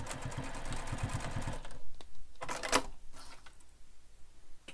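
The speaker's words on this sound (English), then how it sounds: "And you're just sewing over the strap anchor." A sewing machine stitches over the strap anchor of a bowler bag, a rapid rhythmic burst of needle clatter for over a second, then scattered clicks and softer thumps as it slows and stops.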